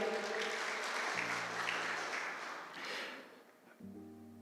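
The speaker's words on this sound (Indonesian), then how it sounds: "Tepuk tangan buat Tuhan Yesus" A church congregation applauds in praise of Jesus, a steady wash of clapping over sustained keyboard tones that drop out and return, heard from within the room with no voices on top.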